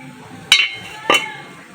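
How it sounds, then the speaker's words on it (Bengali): Metal lid lifted off a steaming pot of chicken momos in a home kitchen, giving two short clinks about half a second apart, close and fairly loud against a quiet background. "এবার আমি ঢাকনাটা তুলে নিচ্ছি।"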